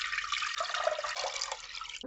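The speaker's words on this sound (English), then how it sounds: "So I'm going to add 4 cups of water in here." Water pours steadily into a cooking pot, four cups' worth filling it with a continuous bright splashing rush, close and fairly loud throughout, with no talking.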